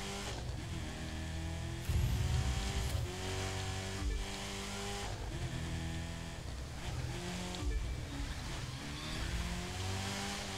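A Camaro ZR1 in the racing game The Crew 2 drives hard with a steady engine roar, rising and falling revs and squealing tires through a sharp corner, loud and continuous.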